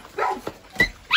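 A small Teddy poodle puppy gives a few short, high yips and barks up close, each brief and separated by quiet gaps.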